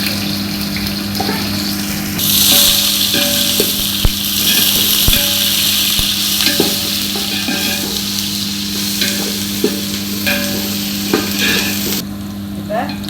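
Large onions for biryani sizzle steadily in a hot pan, loud and close, with occasional clinks and scraping of stirring over a constant frying hiss.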